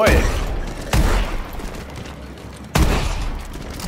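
MK14 rifle gunfire in Call of Duty: Advanced Warfare, three loud close shots spaced about a second apart, each with a sharp crack and trailing echo, with a voice talking at times.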